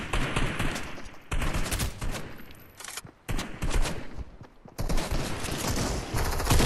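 Rapid, sustained gunfire in the video game Fortnite, with dense bursts of automatic shots filling most of the span and brief gaps between volleys, loud and close, with no talk.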